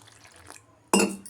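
Water poured into a bowl of salt, chilli powder and masala for egg bajji batter, a faint trickle followed by a sudden loud splash and gurgle near the end.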